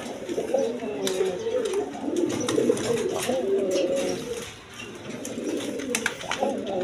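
Quality pigeons being sold are let out and coo softly and repeatedly nearby, with someone talking over them.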